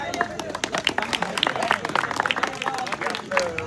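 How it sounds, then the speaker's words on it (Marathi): Crowd at a kusti wrestling tournament clapping steadily, mixed with loud announcer talk and crowd murmur throughout. "टाळ्या करा सगळ्यांनी"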